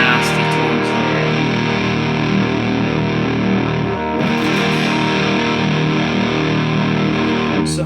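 Electric guitar through a Proco RAT distortion pedal, loud and thick with saturated sustained chords and notes ringing continuously, a brief pick attack and string scrape partway through, no voice over it.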